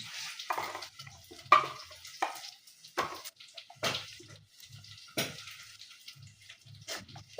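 Beef is stirred into a pan of garlic and ginger frying in oil, giving intermittent scraping stirs and soft sizzling bursts close by in an otherwise quiet kitchen.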